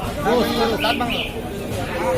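Ram goat cross goats bleat loudly several times at a rural livestock market selling sheep and goats, with voices and crowd murmur around them.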